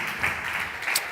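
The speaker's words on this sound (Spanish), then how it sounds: "Un aplauso para él." A short burst of steady applause from a conference audience at a round-table panel in Santiago de Compostela, many hands clapping together in a dense wash.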